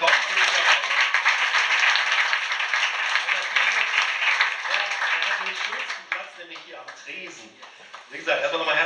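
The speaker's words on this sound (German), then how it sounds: "Also macht einen großen Applaus bitte, herzlich willkommen" A crowd at a DSDS event in Ennepetal claps and cheers to welcome a guest, loud sustained applause that thins out toward the end as a voice starts talking over it.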